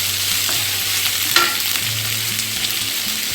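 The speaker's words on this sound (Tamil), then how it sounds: "ஒரு 2 நிமிஷம் நல்லா வெங்காயத்தை வணக்கிட்டு" Onions sautéing in a pan while making thuvaram paruppu sambar, with a steady low sizzle and occasional stirring scrapes, close and continuous with no talking.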